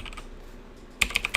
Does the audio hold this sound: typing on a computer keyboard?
yes